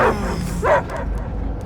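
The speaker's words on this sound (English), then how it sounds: "I hear only barking" A dog barking in the Guardians of the Galaxy video game, two short yelping barks close and loud over a steady low ambient hum, with no talk.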